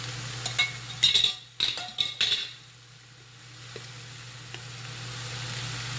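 Eggplant drops into hot oil with mustard seeds, setting off sharp pops and clinks of a utensil against the pan, then settling into a quieter, steady sizzle close by.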